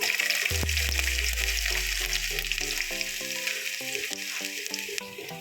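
Chana dal and chopped ginger fry in hot oil in a pan, a steady close sizzle running throughout beneath melodic background music.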